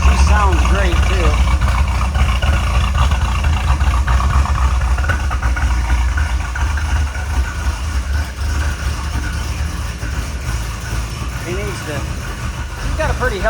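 Rotisserie-restored 1969 Ford Mustang Fastback with a 351 V8 and 4-speed idling close by, a continuous deep throbbing rumble that eases slightly in loudness midway, with faint voices at the start and end.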